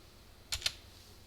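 Two quick, crisp key clicks on a computer keyboard sound close and faint, a fraction of a second apart, against quiet room tone as a command is entered in a terminal.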